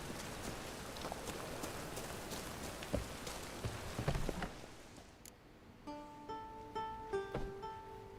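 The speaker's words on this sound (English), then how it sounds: "Didn't look like rain." Steady rain pattering in the video game The Witcher 3, a dense even hiss of drops at moderate level that thins out, giving way to soft plucked tones of music.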